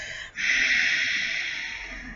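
A strong, forceful exhale through the nose and mouth during a breathing exercise: a short catch, then one long, breathy rush of air that tapers off slowly, close and alone with no talking.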